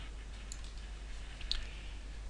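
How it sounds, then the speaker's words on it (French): Computer mouse double-click while working in Photoshop, heard as faint, sharp clicks against a quiet background hum, with a brief pair near the middle of the short stretch. "Et donc je valide en double-cliquant ou en validant la coche en haut."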